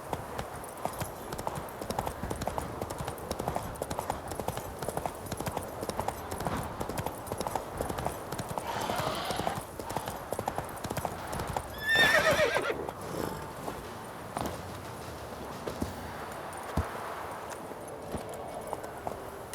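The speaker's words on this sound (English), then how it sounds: "Run, Roach." Roach, a horse in the video game The Witcher 3, gallops with steady clip-clop hoofbeats throughout, plus a loud neigh near the middle, set against a constant game ambience.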